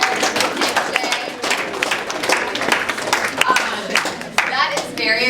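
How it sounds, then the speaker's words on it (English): Applause breaks out at a school DECA state informational meeting: scattered, uneven hand clapping from a modest audience, with voices and chatter mixed in throughout. "we can give them a round of applause"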